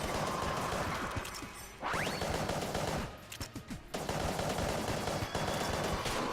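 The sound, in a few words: gunfire in video game Enter the Gungeon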